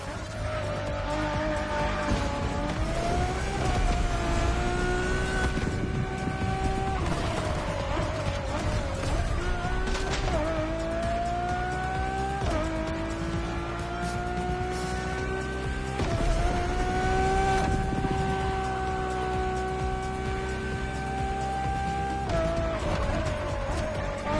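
A Ferrari road car in The Crew Motorfest revs hard through its gears, the engine note climbing and dropping repeatedly with shifts and tire squeal, loud and continuous while a narrator speaks over it.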